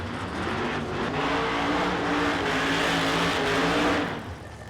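Two orange drag cars, a Challenger and a Cuda, do burnouts together: a loud, sustained roar of engines and spinning tyres, dense and steady, easing off at the very end.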